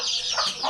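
A chicken, just let out after being kept covered, gives a brief, close cluck of about half a second.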